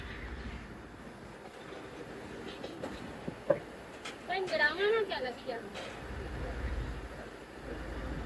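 Bhully Shah passenger train pulling away from Maulvi Wala flag station, with rumbling carriages, scattered clicks and a brief squeal of wheels on rails, fairly quiet and heard from on board.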